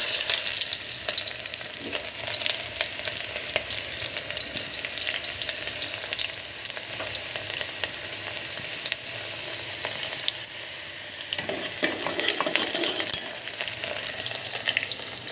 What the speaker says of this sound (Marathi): कुकर ठेवला, त्यामध्ये आपण तेल टाकलेलं आहे। तेल तापलेलं आहे, त्यामध्ये कांदा टाकूया।